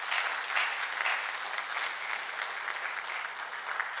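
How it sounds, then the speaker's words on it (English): A crowd at a council meeting claps steadily, sustained applause from many hands at an even, moderate volume throughout. "Give them another round of applause."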